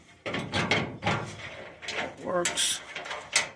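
A full-size truck toolbox lid being shut and latched, giving a few close metallic clunks and clicks, with a person speaking briefly between them.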